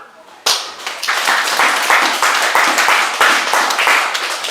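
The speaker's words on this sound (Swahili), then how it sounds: "Si upigie Kawira makofi." A congregation at a church service breaks into loud, rhythmic clapping for Kawira, a dense burst of hand claps starting abruptly and continuing steadily, with voices mixed in.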